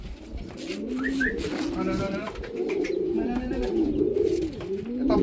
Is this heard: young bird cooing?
yes